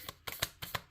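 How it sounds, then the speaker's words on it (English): A brand-new tarot card deck being shuffled by hand: several short, crisp riffling bursts in an uneven rhythm, close and fairly quiet, with no talking. "it's hard to shuffle with this deck because this is a new deck for me"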